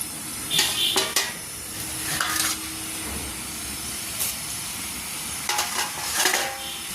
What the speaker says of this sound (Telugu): ఇప్పుడు ఇలా ఒత్తుకున్న మురుకుల్ని ఆయిల్లో వేసుకున్నాం